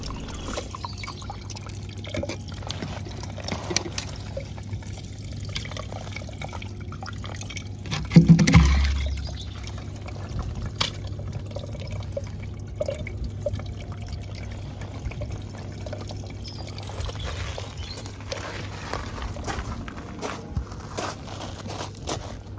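Water trickles and runs steadily through a cleared main drain, a faint continuous pouring flow with a brief louder splash partway through.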